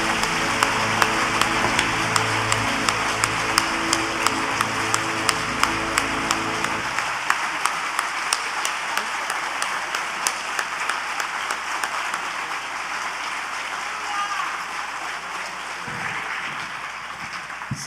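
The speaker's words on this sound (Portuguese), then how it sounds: "Vamos dar um aplausão pro Senhor?" A congregation at a church service applauds with sustained clapping and crowd noise, continuing steadily throughout with sharp individual claps standing out, while background music fades under it partway through.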